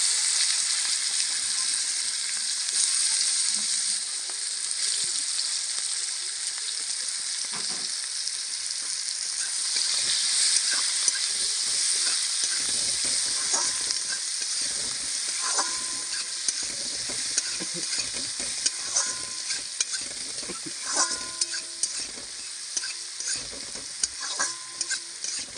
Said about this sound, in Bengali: ওই তেলের মধ্যে আমি পেঁয়াজ কুচি দিয়ে দেবো।